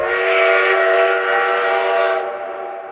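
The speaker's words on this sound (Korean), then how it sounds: "저희 열차는 지금 워싱턴에 왔습니다" A long-distance passenger train travelling from Los Angeles to New York, stopping at Washington, sounds a loud sustained chord horn for nearly three seconds that fades slightly at the end, heard alone with no talking.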